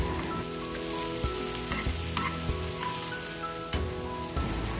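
Chopped onions sauté lightly in an oiled pan, producing a steady, soft sizzle with occasional small crackles, close by and with no talking.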